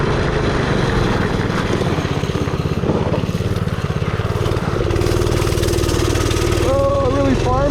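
Keystone mini bike engine revving hard during an off-road test ride on a rough course, a loud close sputtering drone that shifts in pitch, with a rider's voice coming through near the end.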